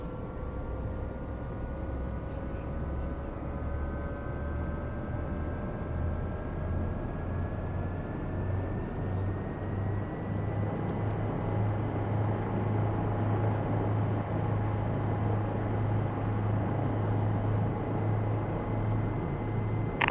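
Bell 407 helicopter in a flight simulator game spooling up, turbine whine rising gradually in pitch over a low rotor throb that grows steadier and louder, constant and moderately close.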